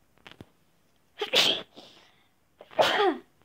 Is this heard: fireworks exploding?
no